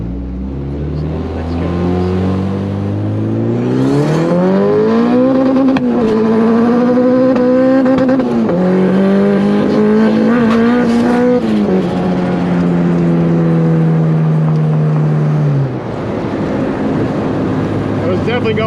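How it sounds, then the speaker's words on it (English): Honda B20 VTEC turbo engine pulling hard in first gear, loud and close from inside the car, its pitch climbing in steady sweeps with brief dips before easing off near the end. "Definitely going in and out of VTEC that time."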